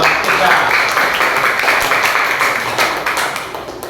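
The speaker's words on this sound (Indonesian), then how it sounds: "Tepuk tangan untuk kelompok 3" A crowd claps steadily, dense and continuous applause that fades slightly toward the end.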